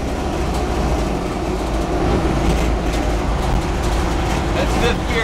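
A low-geared truck rig's engine runs as it gets up to speed, a loud, dense rumble with road and cab noise that holds steady and close throughout.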